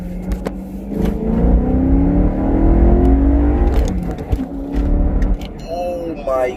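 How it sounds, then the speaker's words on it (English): A BMW E92 M3 with an E85 flex-fuel kit accelerates hard in second gear, its engine note climbing steadily from inside the car, then the pitch drops as it backs off while a man reacts excitedly. "I'm gonna go to 2nd gear."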